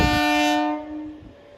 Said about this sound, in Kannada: Train slowly ಬರಾಕತ್ತದು. ಎಕ್ಸ್ಪ್ರೆಸ್ ಅಲ್ಲ ಅನ್ಸತ್ತೆ.